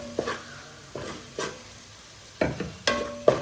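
Coriander and chilli powder with salt being stirred in a frying pan, a soft sizzle underneath as the spoon scrapes in separate bursts, with a few sharper clinks against the pan toward the end.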